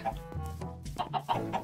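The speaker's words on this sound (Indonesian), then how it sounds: "Nah, ini ada ayam-ayam." Minecraft chickens cluck in short, close bursts, several quick calls bunched together and then repeating, loud and with no talk over them.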